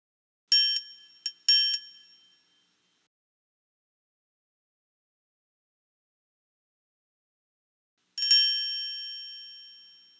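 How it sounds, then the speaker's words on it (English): Bright metallic triangle strikes in a children's music video game, a quick cluster of ringing dings followed by silence, then a single hit left to ring and decay slowly. "You're right. You found the triangle."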